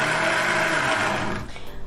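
A blender whirs loudly and continuously while mixing frozen banana, then switches off and spins down, followed by a few soft knocks.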